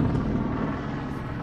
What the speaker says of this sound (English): Right, let the helicopter go.